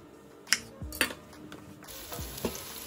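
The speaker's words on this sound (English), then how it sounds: "We're gonna cook these potatoes first, and then we'll add the muthia later." Potatoes cooking in oil in a pot, for a muthia curry, give a few soft utensil scrapes and clinks over a faint, steady background sizzle, quiet and close.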